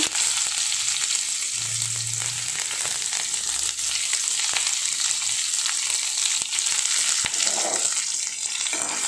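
Onions fry in hot oil with mustard seeds and cumin, producing a loud, continuous, close-up sizzle that holds steady throughout with occasional soft stirring noises.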